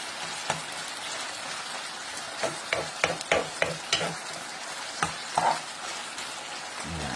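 Homemade pindang babi, a sweet cured pork tocino, frying in a pan: a steady crackling sizzle with scattered sharp pops and clicks of stirring, close and moderately loud, no voices.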